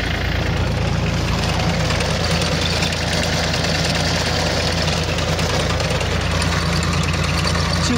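A Yanmar F215D tractor diesel engine idles close by, a loud steady low rumble with rapid knocking pulses, continuous and unchanging, with no talking.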